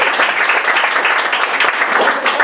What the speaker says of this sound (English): Round of applause for Katarina